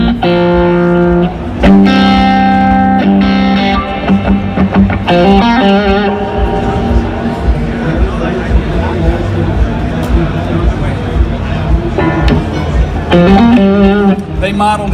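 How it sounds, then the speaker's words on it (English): A heavily overdriven electric guitar through a PRS amp with the gain turned up, with distorted chords and sustained notes ringing out loudly, broken by short pauses between strums. "You turn the gain up even more."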